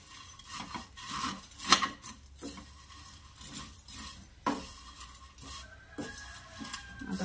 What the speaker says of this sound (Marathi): ब्राऊन कलर होईपर्यंत छान शेवया भाजून घ्यायच्या आहे आपल्याला तुपामध्ये।